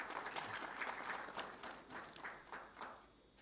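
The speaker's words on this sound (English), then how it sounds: "So a big round of applause for him as well" A conference audience at an economic survey briefing gives a round of applause, heard faint and distant as a soft, steady patter that swells and thins over a few seconds.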